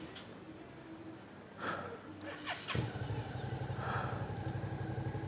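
A motorcycle engine starts after a few seconds of cranking, then settles into a steady, close idle rumble; people talk briefly nearby beforehand.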